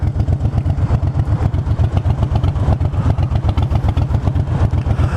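A 2009 Harley-Davidson Fat Bob motorcycle engine rumbles steadily and loudly close by, its low, rapid, uneven V-twin pulses running throughout a ride with no voices.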